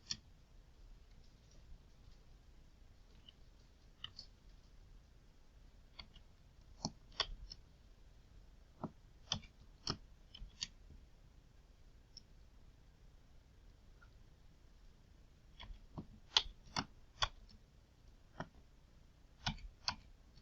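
Keys tapped on a computer keyboard while a formula is entered into a spreadsheet function box: sparse, quiet clicks in short irregular bursts with pauses between, close by and alone in a near-silent room.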